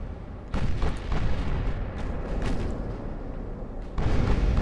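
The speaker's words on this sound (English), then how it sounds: "One salvo from the 20-inch gun." A 20-inch battleship gun salvo in the naval game Ultimate Admiral: Dreadnoughts, heavy booming blasts rolling into a continuous dense rumble, with a second loud surge near the end.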